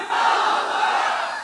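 A large crowd at an AIMIM political rally roars the slogan Nara-e-Takbeer in unison, a loud, sustained massed shout with no gaps.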